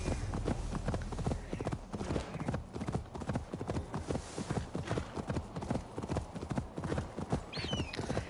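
Horse hoofbeats while riding in Assassin's Creed Valhalla, a steady rapid clip-clop gallop close and loud throughout, with game ambience underneath.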